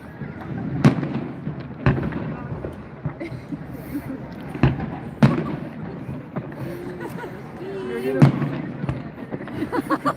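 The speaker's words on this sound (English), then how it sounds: "We've got fireworks colored fog rolling in." Fireworks burst at a New Year celebration in Coeur d'Alene, Idaho, with sharp booms and crackles arriving irregularly at a distance, several loud reports over a murmur of people talking and cheering nearby.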